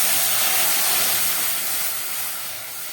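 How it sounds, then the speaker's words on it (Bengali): Water with rice boils in a wok, a steady, loud, bright hiss of bubbling and steam that fades slightly toward the end, with no talk. "জলটা ফুটে উঠেছে।"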